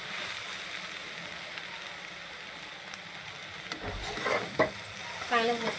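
Sliced onion fried until red and soft in a pan: a continuous, even sizzle, with a few spatula scrapes and stirring clatters toward the end, near and moderate in level.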